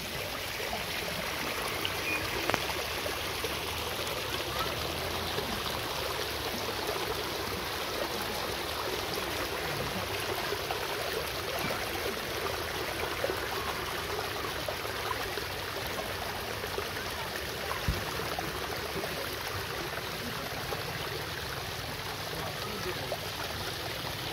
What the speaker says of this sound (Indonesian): senang banget mendengar gemericik air